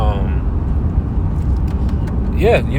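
Car engine and road noise rumble steadily while driving, a low continuous hum under a man's speech throughout.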